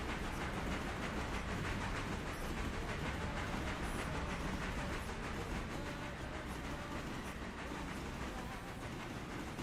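Freight train of hoppers and boxcars rolling past up close, a steady loud roar of wheels and rhythmic clickety-clack filling the whole stretch without a break.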